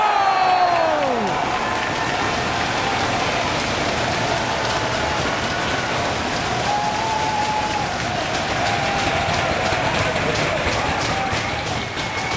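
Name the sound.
wrestling crowd cheering in Providence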